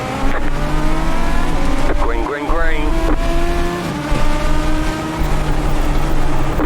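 Legends '34 Coupe race car engines at Langley Speedway in iRacing roar together on a restart, loud and steady with rising revs, while a voice calls out over the noise.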